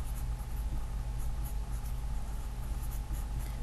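A pen writes a name on a strip of tape, a steady close scratching that runs continuously without pause and with no talking.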